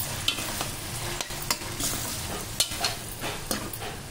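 Frozen peas cooking in a pan with carrot and tomato, a steady close sizzle broken by several sharp scrapes of stirring.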